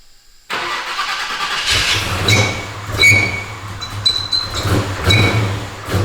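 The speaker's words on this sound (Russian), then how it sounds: "сейчас попробуем в первый раз запустить двигатель" A 1970 Chevelle SS engine, fitted with Edelbrock ProFlow 4 electronic fuel injection, cranks and fires up after a silent pause, settling into a loud, steady idle close by.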